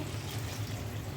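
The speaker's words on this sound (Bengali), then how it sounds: "গরম পানিটা দিয়ে দিচ্ছি," Hot water being poured into a pan of pulao rice, a short steady gush of liquid lasting about a second, close and soft with no voices.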